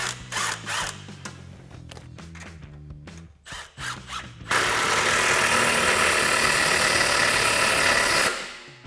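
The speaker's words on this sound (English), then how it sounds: "take a 16mm socket and tighten that down" A 16mm socket on a ratchet tightening an exhaust clamp on an axle-back exhaust for a 2018-2023 Mustang GT, close rapid clicking in short bursts, then a sustained loud whirring tool run that stops abruptly.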